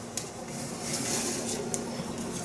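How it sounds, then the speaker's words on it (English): Quaker oats are being stirred into thick, flourless monster cookie dough in a bowl, giving a steady, soft scraping and squishing with a few light clinks of the spoon against the bowl. "And we're just going to stir that in."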